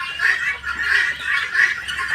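A breeding flock of nearly a thousand guinea fowl on a farm keeps up a dense, continuous chatter of harsh, rhythmic calls that swell and dip in waves, close and fairly loud.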